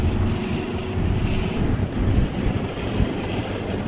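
Sea waves wash near a black-sand beach in Bali while steady wind buffets the microphone, a continuous broadband roar with gentle swells and no voices.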